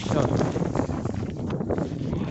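On a frigid uninhabited island at minus forty, wind rumbles and buffets the microphone in a low, continuous roar, partly mixed with voices talking.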